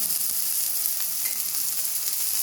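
Tarka ingredients with turmeric and salt frying in a pan, a dense, even sizzle held close and constant throughout.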